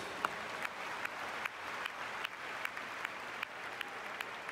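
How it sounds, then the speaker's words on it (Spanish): A congregation at a church convention in Cali applauds, a steady wash of clapping punctuated by sharp, regularly spaced individual claps close by, with no voices over it. "denle un aplauso fuerte a Jesús."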